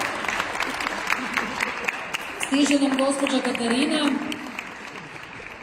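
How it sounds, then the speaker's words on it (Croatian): An audience at the opening of the 28th Katarina fair in Slavonski Brod applauds a stand award winner, a few seconds of clapping rising in the middle under a speaker's voice. "Molim vas da je pozdravite sa pljeskom."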